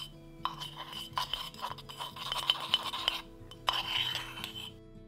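A tool scraping and clinking against a container while stirring Jesmonite powder into acrylic resin, irregular sharp ticks and taps over a soft rubbing undertone, fairly quiet and close.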